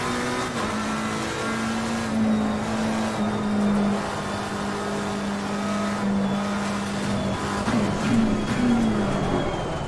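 A McLaren race car engine in Assetto Corsa Competizione drones steadily at high revs, the pitch dipping and rising with gear changes and throttle, close and loud with no talking.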